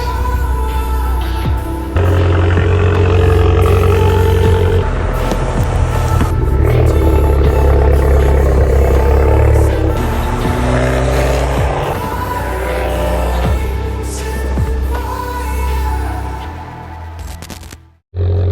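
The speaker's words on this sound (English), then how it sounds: "we've got the cold start started up on the Abarth 595 TURISMO, 165 horsepower" An Abarth 595 Turismo with a 165-horsepower engine idles after a cold start, a steady loud low rumble with a raised idle that holds evenly throughout, then cuts off at the very end.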